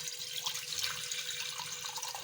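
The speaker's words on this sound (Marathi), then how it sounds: "ह्यामध्ये पाणी घालूया आता" Water pours steadily into a metal cooking pot for millet ambil, a continuous running hiss with a faint splashing texture throughout, fairly close and alone without talk.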